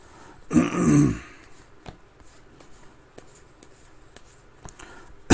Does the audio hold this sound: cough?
yes